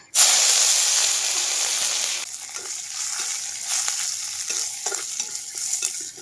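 Dried chili and curry leaves dropped into hot oil on a clay stove, an immediate loud sizzle that bursts at the start, then settles into a steady frying hiss with light stirring scrapes.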